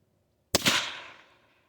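.22 LR rifle firing a single flat nose personal defense round, one sharp close crack after a moment of silence, followed by a brief decaying echo.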